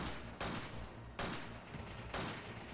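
Three heavy bursts of machine gun fire in Resident Evil 5, each a loud sustained rattle starting abruptly, spaced about a second apart.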